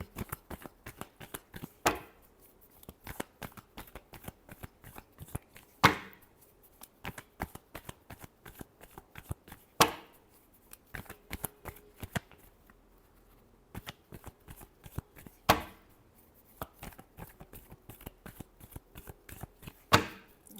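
Tarot cards are shuffled repeatedly, with quick fluttering riffles and sharp slaps recurring every few seconds, close and clear, with no talk over them.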